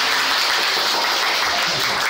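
A live audience at a Japanese entertainer's event breaks into applause, a dense, even roar of many hands clapping that stays loud and steady for the short moment.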